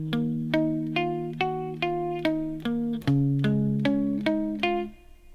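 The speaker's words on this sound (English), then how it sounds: "I'm going to play using palm muting." Palm-muted guitar playing the opening two measures of a song, a steady run of short, damped plucked notes in an even rhythm, moderately quiet and close, with a chord change midway and no talking.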